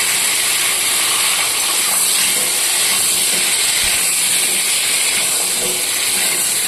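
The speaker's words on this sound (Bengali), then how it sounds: "এই তেলের মধ্যে দিয়ে দিচ্ছি তেজপাতা আর সাদা জিরে। এবার কেটে রাখা আলুগুলো দিয়ে দিচ্ছি।" Cut potatoes hit hot oil already seasoned with bay leaves and cumin seeds, giving a loud, steady, close hiss of frying that holds evenly throughout with no talking.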